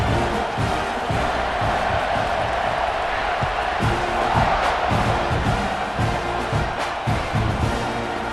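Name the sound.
football stadium crowd buzzing after a score, from a video game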